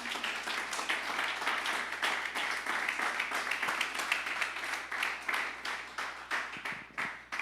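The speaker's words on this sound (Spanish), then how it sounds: "Un aplauso para el Señor." Congregation applauding during a Spanish-language prayer service in church, a sustained wash of many hands clapping with rhythmic pulses and a slight fade toward the end, moderately loud and with no clear speech.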